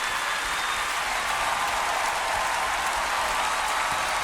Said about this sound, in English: For this, you are sitting and clapping?